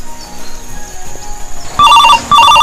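A telephone rings in short repeated electronic trills, loud and close, starting after a quiet stretch of faint background sound.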